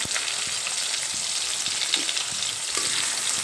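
Chopped onion fries in hot oil with whole spices, a dense crackling sizzle up close, broken by soft scrapes and knocks as it is stirred; no one speaks.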